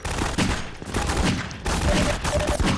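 Sustained gunfire from Half-Life 2, rapid dense bursts of shots that run almost continuously, loud and close, with short gaps between volleys and faint game sounds underneath.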